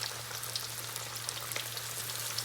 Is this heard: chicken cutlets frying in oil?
yes